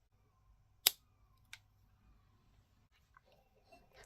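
Scissors give a single sharp snip as they cut a feather for a fishing jig, followed by a fainter second snip and light handling noise in a quiet room.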